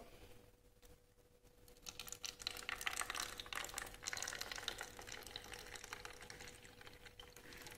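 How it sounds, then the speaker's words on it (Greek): Room-temperature water is poured into a styrofoam cup during a thermal equilibrium experiment, giving a faint, soft trickling that builds after a quiet start and continues steadily. "βάζουμε το νερό θερμοκρασίας δωματίου μέσα στο ποτήρι του φελιζόλ"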